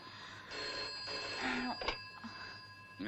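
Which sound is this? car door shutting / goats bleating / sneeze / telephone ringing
telephone ringing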